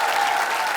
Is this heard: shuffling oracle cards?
no